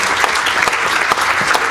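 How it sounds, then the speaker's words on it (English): A school audience applauds their principal at a student mariachi and Beethoven concert, a full, steady wash of clapping from many hands, loud and continuous throughout. "Can we give him a round of applause, please?"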